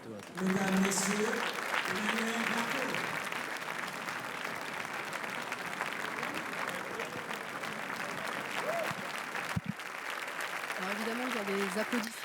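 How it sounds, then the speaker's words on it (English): Polite crowd applause along the Cannes red carpet at the 2015 festival, a sustained wash of clapping heard beneath someone talking for most of the stretch. "Of course, people are applauding"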